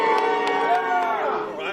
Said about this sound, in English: Everyone over here, scream and cheer.